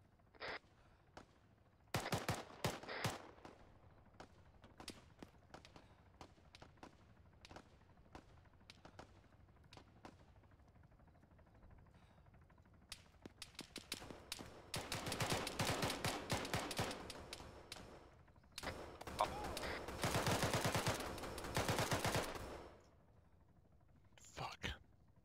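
Arma 3 battle at Al Faw: machine-gun and rifle fire crackle from a building under attack, scattered shots early, then sustained loud bursts of automatic fire, with soft voices underneath.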